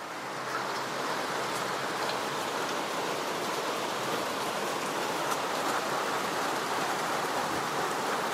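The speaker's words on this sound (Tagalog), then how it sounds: "Lumakas pa lalo ang ulan." Heavy rain pours down and builds in strength, a steady, loud, dense hiss that fills the whole clip with no voices.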